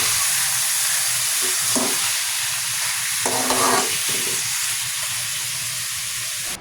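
Chicken meat for adobo sizzles steadily in a hot pan, a loud constant frying hiss broken by faint stirring scrapes, with no voices.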